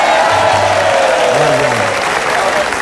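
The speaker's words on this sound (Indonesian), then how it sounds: "kita beri tepuk tangan untuk Warsini dan Warsit." Loud, continuous applause and crowd noise from a studio audience at an Indonesian TV talk show, with a few faint tones and voices beneath the steady clapping.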